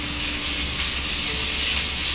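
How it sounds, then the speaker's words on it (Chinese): Pork belly from a local free-range pig fries in a pan with a little oil, giving a steady, close, even hiss of sizzling fat that holds at one level throughout. "土猪的五花肉放进去煎炒一下"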